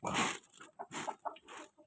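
Chickens, a mixed flock of hens and roosters at feeding on a farm, cluck in short separate bursts, fairly close and quiet, with no talk.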